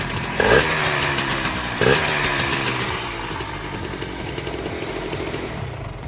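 A 125cc motorcycle engine, stripped bike, revs sharply twice, then settles into a loud, rough idle with a rattling, sputtering exhaust close by.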